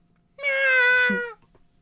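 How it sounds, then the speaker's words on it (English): A single loud, drawn-out video game cat meow that rises into a strained, screaming wail, heard alone against near silence. "You know that screaming cat meme?"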